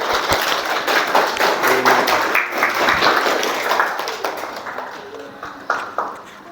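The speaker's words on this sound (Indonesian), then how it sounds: "kasih aplaus untuk kelompok 3" Students in a classroom session at Universitas Negeri Malang give group 3 a steady, dense round of hand clapping that fades slightly toward the end, with a few sharper claps standing out.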